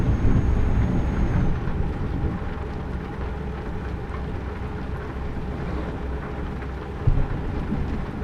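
A thunderstorm with rain in the truck-driving game Euro Truck Simulator 2 keeps up a steady dense rumble and hiss for the whole stretch, with a brief louder swell near the end and no talking.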